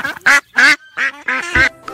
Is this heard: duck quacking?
yes